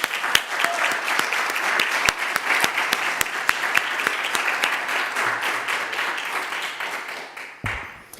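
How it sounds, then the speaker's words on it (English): An awards-night audience claps for the winners, a steady loud patter of many hands with some sharp individual claps standing out, ending abruptly near the close. "One more round of applause for our winners tonight."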